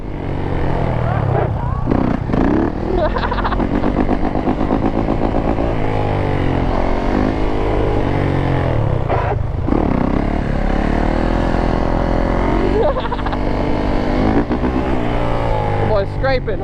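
A quad ATV engine revs loudly and continuously during a wheelie, rising and falling in pitch close by, with rough scraping mixed in and people talking over it.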